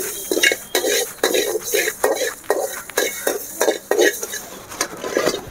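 Fenugreek seeds being dry-roasted in a hot pan while a spoon scrapes and stirs, giving repeated metallic scraping strokes in a steady rhythm with faint crackling, close up and fairly loud.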